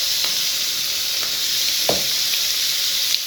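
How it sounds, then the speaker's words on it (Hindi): Capsicum sizzles steadily as it is stirred and fried in a pan for a breakfast dish, a constant hiss of frying with a few soft scraping stir strokes, close and even throughout. "अच्छे से मिक्स करेंगे और इसे भी साथ ही फ्राई कर लेंगे इनके"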